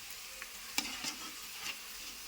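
Oil crackles and sizzles softly in a pan on a stove, with a few brief sharper pops and stirring scrapes over a low steady hiss; no one speaks.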